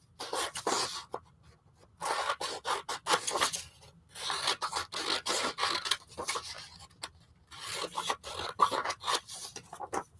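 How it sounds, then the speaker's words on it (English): Scissors cut paper pieces for a collage poster, giving close, dry snips and rasping bursts in uneven clusters separated by short pauses. "This right here, I think I'm going to cut this down."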